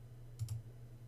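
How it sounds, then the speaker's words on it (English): A computer mouse clicked twice in quick succession to send an email, two faint, close-together clicks over a steady low electrical hum. "I'm going to come up here and click Send."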